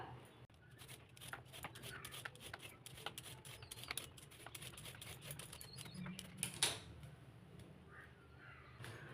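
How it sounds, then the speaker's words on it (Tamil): A large radish is peeled by hand in a kitchen, giving a quiet run of quick, close scraping strokes in an uneven rhythm. "இப்போ வந்து நம்ம முள்ளங்கி வந்து தோல் சீவிக்கலாம்"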